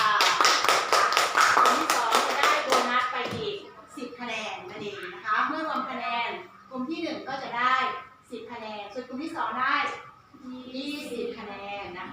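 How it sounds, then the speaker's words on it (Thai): Applause for the second group at a school presentation on designing a layer-hen house: a short burst of rhythmic tapping claps, close and loud, followed by someone speaking. "ปรบมือให้กลุ่มที่สองด้วยค่ะ"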